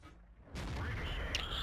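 A tank cannon fires in World of Tanks from a Hellcat tank destroyer, a sudden loud boom that sets off sustained rumbling and mechanical noise, with a brief metallic ping near the end.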